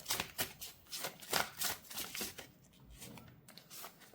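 Tarot cards shuffled by hand in rapid riffling bursts, a close, soft, papery flutter repeating in uneven rhythm before thinning out, with no speech.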